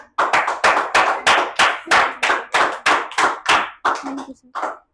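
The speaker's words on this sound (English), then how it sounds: "Let us give a round of applause for chief guest." An audience applauds a chief guest at an independence day function with about a dozen evenly spaced, sharp handclaps that fade out, heard close with no talking.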